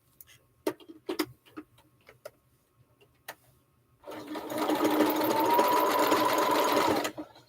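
A sewing machine stitches a quarter-inch seam on a quilt block: a few scattered clicks and taps come first, then a loud, steady mechanical whir runs continuously for about three seconds before stopping.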